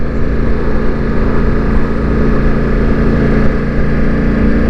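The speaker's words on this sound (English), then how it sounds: "And the exhaust still sounds lovely" Exhaust note from a Ducati Multistrada V4 motorcycle after a software update, a loud, steady engine drone that holds close and even throughout with no rise or fall in revs.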